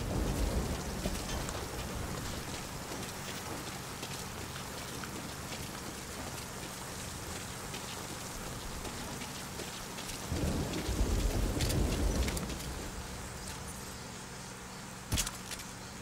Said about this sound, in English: Rain just won't let up.